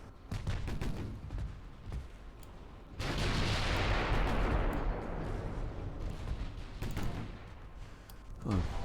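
Warship main battery turret gunfire in the naval game Ultimate Admiral: Dreadnoughts, with a heavy Kronshtadt-class broadside: a deep, loud roaring salvo that rumbles and slowly fades, preceded by scattered distant booms.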